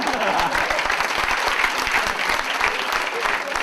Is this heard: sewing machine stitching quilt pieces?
no